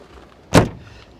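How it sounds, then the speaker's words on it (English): A car door on an old Mercedes closes with a single solid thud. The close, sharp slam is heard alone against quiet surroundings and fades quickly. "Listen to the doors, even after all these years."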